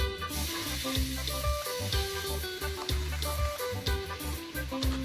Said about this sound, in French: Il fait frire des saucisses